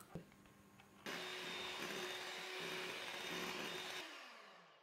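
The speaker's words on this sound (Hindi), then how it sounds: "इसलिए मैं बीटर का इस्तेमाल करूंगी कि अच्छे से बीट हो जाएगा" An electric beater whirs into cake batter for a custard sponge cake, starting abruptly after a quiet moment, running with a steady motorized drone for about three seconds, then cutting off and fading.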